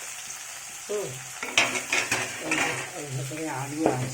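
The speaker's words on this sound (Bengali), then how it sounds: "এই চিংড়িটা ওতে ফেলে দিচ্ছি, ওটা ভাজা হবে।" Shrimp dropped into a hot pan of frying vegetables and potatoes sizzles, with close utensil scrapes and stirring clatter under a voice talking.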